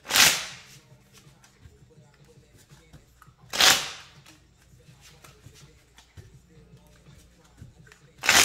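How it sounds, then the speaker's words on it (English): A tarot reader shuffles a deck of cards in three brisk, crisp bursts spaced a few seconds apart, with quiet stretches between them. "We'll get a good shuffle on there."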